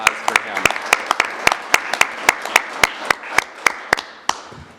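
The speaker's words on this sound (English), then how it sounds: "so a big round of applause for him" Sparse, evenly spaced clapping at a city council meeting, sharp individual claps from a small group in a quiet room, continuing for a few seconds before fading.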